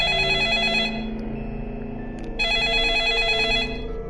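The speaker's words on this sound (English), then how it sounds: "There was a phone ring." A telephone rings in the video game 428 Shibuya Scramble, two electronic ring bursts separated by a short gap, clear and alone with no talk.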